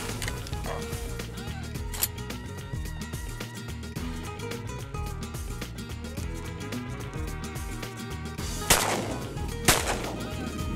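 Shotguns fire during a duck hunt in Argentina: two sharp blasts sound close together near the end, after a stretch of outdoor background noise with people talking.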